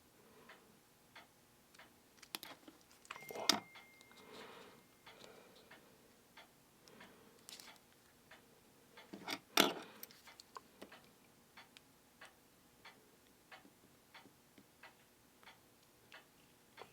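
A small screwdriver turns bezel screws into a G-Shock DW5600E watch case, producing faint, close, irregular ticking clicks with a couple of louder scraping knocks.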